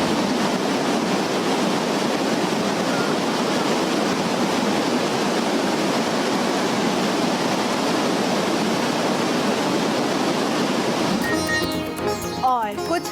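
A waterfall in China, swollen by meltwater from rising temperatures, pours in a dense, steady roar of falling water that stays loud and even, then gives way near the end to other sounds.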